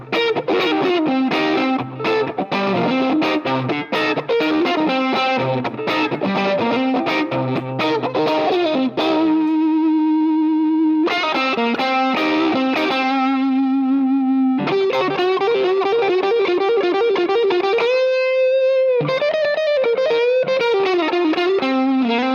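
Electric guitar solo on a Stratocaster's bridge pickup with a bright, trebly tone, continuous melodic lines with bends and sustained notes, played loud without any talking.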